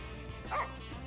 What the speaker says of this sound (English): Oh, look, a dog.